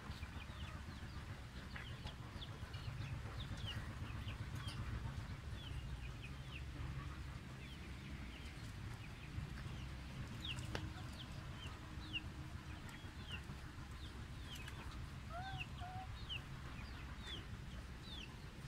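Chicks cluck and peep in a small flock, scattered short chirps and soft clucks rising over a quiet farmyard background for a sustained stretch.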